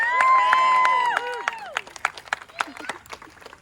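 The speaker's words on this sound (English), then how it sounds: "Let's give Stan a round of applause" At the grand opening ceremony of a public swimming pool in Spring, Texas, sparse scattered applause from an outdoor crowd follows a voice, with individual claps fairly distinct and thinning out.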